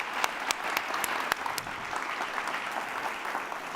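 Applause from an audience following a talk at an AI and UX research session, a few seconds of fairly quiet, steady clapping with sharper individual claps standing out, no speech over it.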